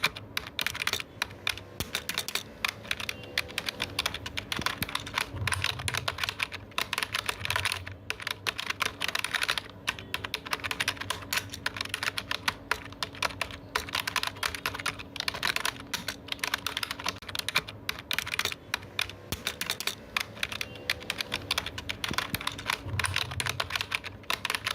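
Steady, continuous typing on a computer keyboard, with fast clicking keystrokes running throughout at close range and no talking.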